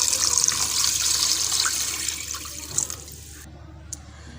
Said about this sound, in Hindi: हाफ़ केजी चिकन में हम डालेंगे 2 लीटर पानी।